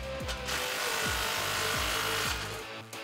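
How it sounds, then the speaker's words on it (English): A power tool fitted with a 15 mm socket whirs loudly as it tightens a muffler pipe clamp on a 2009-2018 RAM 1500 5.7L exhaust. Motor pitch sweeps repeatedly in rapid bursts of driving, then stops abruptly. "grab your 15 socket and tighten that down"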